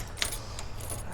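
A bunch of keys jangles up close as the right bus key is sorted out, with bright metallic clinks and a sharp chime near the start, then lighter rattling.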